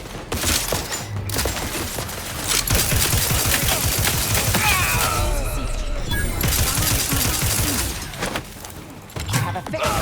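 Dense bursts of automatic gunfire and heavy shots in a firefight in The Outer Worlds 2, loud and close, nearly continuous with brief lulls, with a robotic voice speaking over the combat.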